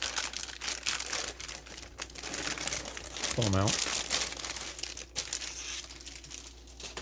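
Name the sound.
rustling heavy plastic bag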